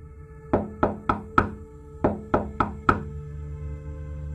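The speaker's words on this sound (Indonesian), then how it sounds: "gue dengar suara ketukan jendela." Knocking on a window, eight sharp raps in two even groups of four, close and distinct, each followed by a brief ringing decay, in a horror story setting.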